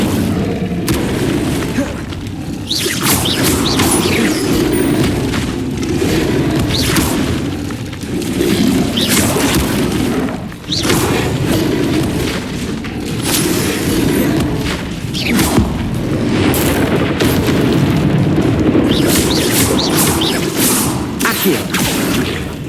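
Incendio fire spell blasts in the game Hogwarts Legacy: repeated heavy booming bursts and whooshes in a steady, loud barrage of combat effects, lasting throughout.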